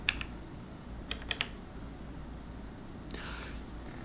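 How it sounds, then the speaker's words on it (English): A few quick clicks of keys pressed on a computer keyboard while gaming, three close taps near the start then a pause, faint and alone over a low hum. "I pressed it on my keyboard."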